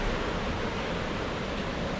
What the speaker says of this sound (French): Ouais, il y a des vagues.